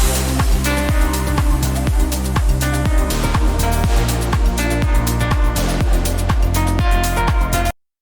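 A fast, punchy distorted synth pluck from a track repeats in a steady rhythmic pattern over a thumping low beat, loud and gritty, cutting off abruptly at the end.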